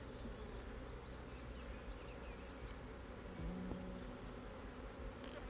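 Honey bees buzzing inside an overwintered hive during a spring inspection, a close, steady drone with occasional louder passes and no speech.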